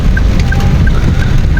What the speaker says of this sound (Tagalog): Ingat-ingat mga ka-PJ, umuulan.